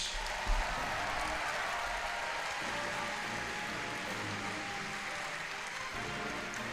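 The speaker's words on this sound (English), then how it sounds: "more round of applause Again, for our but- panelists" Steady applause rolls through the crowd at an FFXIV Fan Fest panel, a dense continuous wash of clapping heard at a distance, even in level from start to finish.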